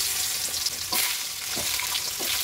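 Potatoes fry in hot oil tempered with dried chilli and cumin, giving a steady, close sizzle with a few louder crackling spurts as pieces hit the oil and get moved, and no speech.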